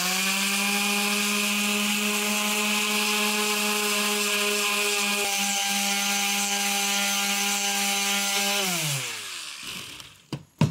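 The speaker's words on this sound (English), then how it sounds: "let's see what happens if we start to sand down through the different layers" A power sander cuts down through layers of paint on an abstract artwork made with building supplies: a loud, steady motor whine holds for about nine seconds, then winds down in pitch, followed by a few sharp clicks.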